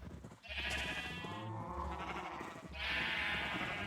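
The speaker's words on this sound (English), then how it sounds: "And then we can come over here to the white sheep." Sheep in a farming video game bleat in repeated loud, wavering calls, one near the start and another at the end, over a steady low game background hum.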